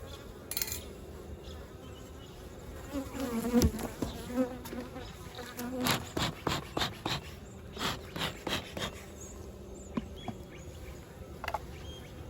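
Honey bees buzz around an open hive during an autumn varroa check, a close, lively drone with individual bees zipping past the microphone in louder swells and bursts over a steady hum.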